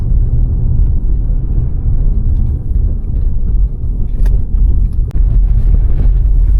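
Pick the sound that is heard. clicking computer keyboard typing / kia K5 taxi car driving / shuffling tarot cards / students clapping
kia K5 taxi car driving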